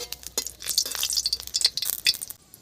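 Dry red chillies sizzle and crackle in hot oil in a wok for a rural-style Bengali pui shak bituli dish, steady close frying with a few sharp pops and light utensil stirring, no talking.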